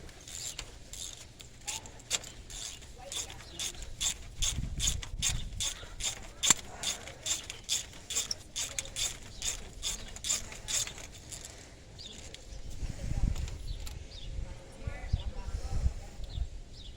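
A ratchet clicks in quick, crisp runs while loosening a spark plug on a 2008 Ford Crown Victoria, the rapid pawl ticks coming in bursts amid low rustling and handling noise.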